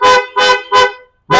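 A Hyundai Creta car horn sounds in four loud, close honks, each a short steady blast with brief gaps between them.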